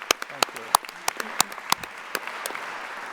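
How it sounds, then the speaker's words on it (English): Scattered applause from an audience at a 2021 NJIT university commencement ceremony, a few distinct claps popping over a light background patter, moderately close and fairly brief. "A round of applause, please."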